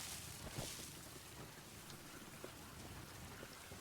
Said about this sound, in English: Dark and raining.